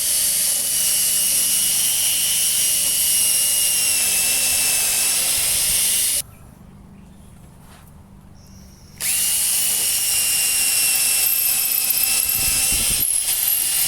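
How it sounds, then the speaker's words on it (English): A power drill with a 10mm bit bores countersunk screw holes into a wooden shutter frame's butt joints: a loud, steady high whine that runs, cuts out for about three seconds, then resumes. "while we start to drill where the screws are going to go in to hold these butt joints together"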